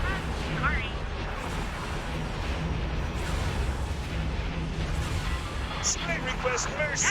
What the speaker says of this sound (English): that arrester's taking a pounding from that Dreadnought, a full broadside